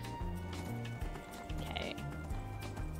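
Horse hooves clip-clop at a steady trot while riding up a mountain in the video game Skyrim, with a looping game music bed and faint ambient effects underneath.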